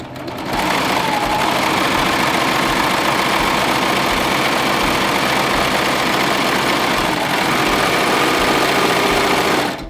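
An air-threading serger runs on four-thread overlock while skim-cutting fabric, making a fast, steady mechanical whir that holds for about nine seconds and then stops.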